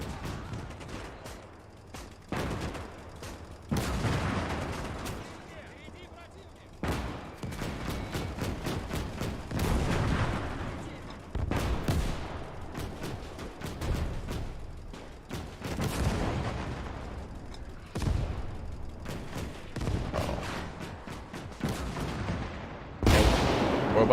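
Artillery fire booms repeatedly in the WWII game Gates of Hell, each loud, close blast followed by rolling decay, with scattered rifle shots filling the gaps over roughly twenty seconds.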